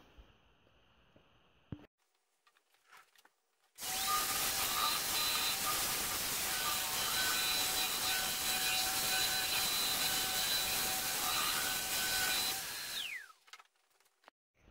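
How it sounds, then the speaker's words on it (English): A power sander works homemade wooden plugs on a shop cabinet. It starts abruptly, runs as a loud, steady whine for about nine seconds, then winds down to quiet. "Just got to sand these things down now."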